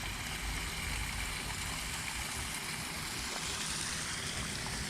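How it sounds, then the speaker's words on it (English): A small waterfall by a pool in the North Carolina mountains pours in a steady broadband rush of falling water, constant and close, with no voices. "We got a little waterfall here."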